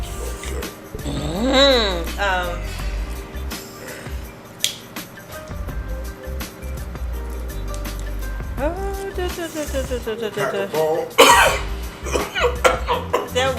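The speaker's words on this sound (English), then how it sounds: "That shit makes y'all cough like that." Several harsh coughs from close by, mixed with people talking and laughing, some coughs in quick fits and one sharp burst late on.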